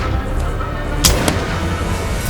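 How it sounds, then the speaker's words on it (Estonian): Two sharp gunshots crack out close together, the first louder, from a gun fired during a short film, with no talk over them. "Laseb mingi püssiga."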